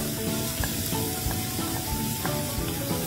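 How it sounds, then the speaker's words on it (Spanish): Chopped onion sautés in hot oil with a steady, close sizzle, broken by occasional soft stirring knocks, while faint tonal background music plays. "Pues sofreímos primero la cebollita."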